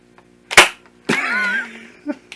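A top-fed toy foam dart blaster fires with a sharp snap, followed by a whirring, springy rattle as the mechanism resets, then a brief click near the end.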